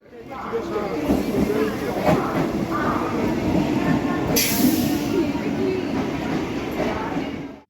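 A Kolkata circular railway train runs steadily with a continuous rumble of wheels on track, plus a brief high squeal partway through and faint voices under the noise.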